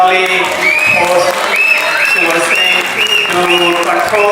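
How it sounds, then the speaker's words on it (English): An audience at an interactive session with the Gajapati Maharaja applauds its host, loud sustained clapping mixed with crowd noise and a few cheers, running without a break from start to finish. "Can I really ask everybody to put a round of applause for our lovely host"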